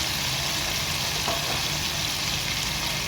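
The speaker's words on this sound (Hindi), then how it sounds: "हल्का गोल्डन सा इनको हम फ्राई करेंगे" Sliced onions fry in oil for chicken karahi, a loud, even, continuous sizzle holding steady throughout without pause.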